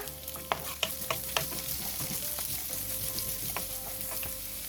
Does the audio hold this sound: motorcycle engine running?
no